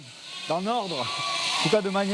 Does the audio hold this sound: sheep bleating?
yes